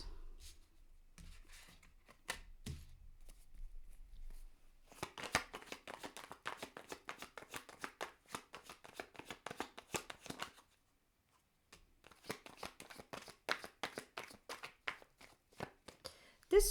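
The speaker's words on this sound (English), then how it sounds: "as I'm shuffling your cards" Tarot cards shuffled close up in a quiet room, repeated crisp riffling bursts of flicking card edges separated by brief pauses, faint and intimate with no talking.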